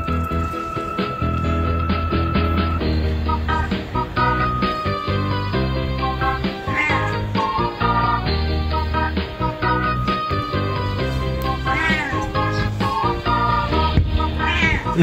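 A stray cat meows outdoors on a cold, very windy morning; the meowing sits among a dense, steady, harmonic-rich background throughout, with no talk.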